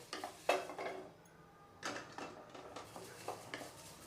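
Curry leaves dry-roasting in a pan, stirred with a spoon that scrapes and clinks against the metal in irregular strokes, close and moderately quiet with a light crackle between.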